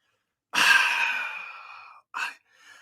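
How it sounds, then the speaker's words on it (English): A long, heavy, raspy breath out, close and loud, then a shorter breath in, with a harsh mechanical quality. "Obviously, when people hear this breathing in a trailer, that sounds like Darth Vader."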